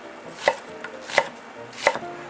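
A knife chops halved green onion and other vegetables on a cutting board: three crisp, evenly spaced strikes, close and clear, with no voices.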